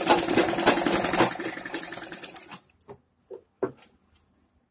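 Sewing machine stitching a padded blouse lining runs in a fast, rattling whir for about two and a half seconds, then stops, leaving a few scattered clicks and fabric-handling taps.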